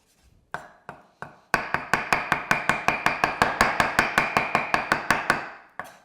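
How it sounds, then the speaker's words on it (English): A knife rough-chops pork on a cutting board for stir-fried pork in oyster sauce. A few separate chops are followed by a fast, steady run of about twenty loud, close thuds, with no talk. "Then a rough chop over the top."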